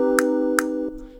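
A sustained synth chord from the Pendora VST plugin holds steady for about a second and fades, with a few brief percussive ticks landing on top of it.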